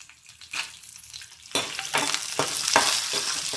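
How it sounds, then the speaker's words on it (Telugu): Green and dried red chillies frying in a pan for a village-style gongura chutney, giving a crackling sizzle that jumps louder partway through with sharp stirring scrapes, close and alone. "పచ్చిమిరపకాయలు, ఎండుమిరపకాయలు కానీ వేసేస్తున్నా."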